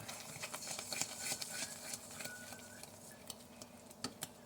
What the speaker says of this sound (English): I'm just stirring a little more.